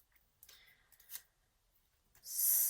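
Scissors snip through thin planner paper in a few quick, faint cuts, followed by a louder rustle or crisp slice near the end; no voices.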